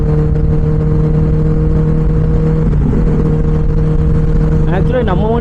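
A Benelli 600i superbike's engine and exhaust drone loudly and steadily up close, with a rising rev toward the end.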